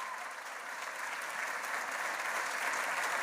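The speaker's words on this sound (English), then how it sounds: "Let's give a round of applause to our local officials." An audience at a groundbreaking ceremony applauds local officials, giving steady, dense clapping that builds a little toward the end. No voices sound over it.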